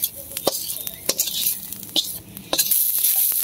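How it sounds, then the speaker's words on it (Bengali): Onions frying in a pan, a soft sizzle under repeated sharp scrapes and clinks of a utensil stirring against the pan, close and irregular. "মানে আপনার পেঁয়াজ ভাজা লইতেছে আর কি"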